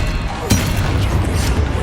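An Expelliarmus spell strikes in Hogwarts Legacy with a single sharp, loud impact crack, then a rumbling, crashing wash of battle noise carrying on close by.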